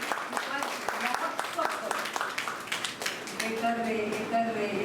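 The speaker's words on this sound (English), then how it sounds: "Let's give a big round of applause for all the leaders and sub-leaders" Applause from the audience at an exhibition of wild vegetables and medicinal plants, honouring the event's leaders: steady scattered clapping throughout, with voices and a few sustained tones rising beneath it toward the end.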